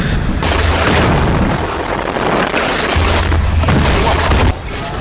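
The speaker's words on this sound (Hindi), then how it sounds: "सैनिक हमास के ठिकानों पर बारूदी वर्षा कर रहे हैं।" Shelling during the Gaza war, a loud, dense, continuous rumble of explosions with deep booms swelling and fading throughout, heavy and unbroken from start to end.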